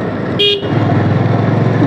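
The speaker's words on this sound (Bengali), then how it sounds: "আমিও হর্ন দিই।" One brief car horn honk cuts through the steady rumble of an engine and nearby traffic, including CNG auto-rickshaws, on a narrow road.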